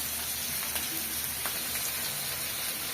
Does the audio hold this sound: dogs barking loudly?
no